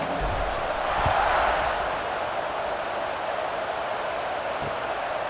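Home crowd cheering in College Football 26 with the home team up 20-0: a steady, loud stadium roar that swells briefly early on, with commentary voices running over it.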